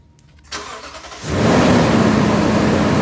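A 2017 Toyota Tundra with a roughly 380-horsepower I-Force V8 cranks, catches and settles into a loud, steady idle, close up in the engine bay.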